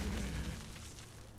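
A Flame Cannon card effect from the Hearthstone video game: a deep, booming burst at the start that fades into a rumbling fire-like tail, with no talk.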